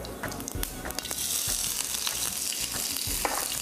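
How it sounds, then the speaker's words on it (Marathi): Cumin seeds and green chilies sizzle in hot oil in a home kitchen, a steady close crackling hiss that fills the clip, with small spattering pops and faint stirring. No talking. "चला, तेल गरम झालंय, काय घालूया? जिरं घालूयात थोडंसं. बर. मिरची घालूयात."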